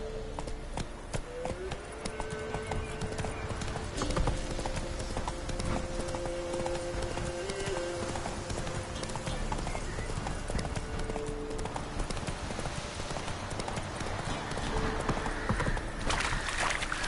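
Rapid, close clip-clop of Roach's hooves from The Witcher 3 on PlayStation 4 Pro, a galloping rhythm that continues under music and game sounds, with a brief whinny and some talk.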